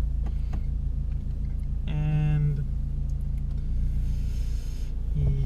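A Seat Ibiza with a broken head gasket idles nearby, its steady low engine rumble continuous throughout, with a brief harmonic whine partway through.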